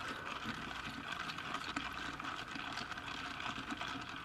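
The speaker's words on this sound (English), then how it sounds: "I'm gonna fill this up to that line, which is water, room temperature water" Room-temperature water pours steadily into a container for instant cheeseburger macaroni, a continuous close rushing hiss that holds even and loud with no pauses or voices.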